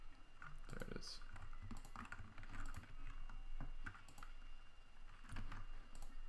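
Fingers tap a computer keyboard while programming a Chamsys lighting console, producing a continuous run of quick, uneven clicks and keystrokes at close range.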